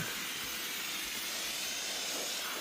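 Bosch Universal Aquatak 135 pressure washer spraying the front panel of a car, a steady, even hiss of water jet running continuously and fairly quietly, with no talking.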